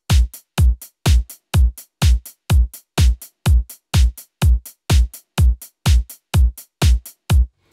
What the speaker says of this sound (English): I can see that it's a drum machine designer part that I've programmed